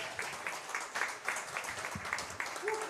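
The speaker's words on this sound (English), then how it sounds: "One final big round of applause." A small audience gives a final round of applause at a coach talk event, quiet, scattered clapping with distinct individual claps, faint and somewhat distant, with brief voices underneath.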